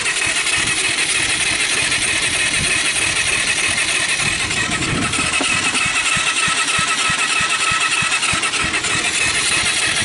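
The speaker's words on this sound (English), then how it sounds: "Making popping sound, but it seems to be popping out the exhaust." A low-compression Kawasaki Bayou 220 ATV engine cranks and struggles to fire, sputtering and popping out of the exhaust in a rough, continuous, loud racket heard up close.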